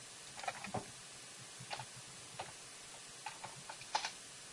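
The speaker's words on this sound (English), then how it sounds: "Just type in 0, 400 and hit enter" Several light clicks of computer keyboard keys tapped in short bursts, close and quiet, ending with a firmer press of the enter key, with no talking.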